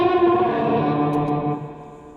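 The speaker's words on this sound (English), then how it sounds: "nice, massive," A sustained guitar chord rings out through a massive reverb effects unit, its dense, washy tail slowly fading over a couple of seconds with no talking.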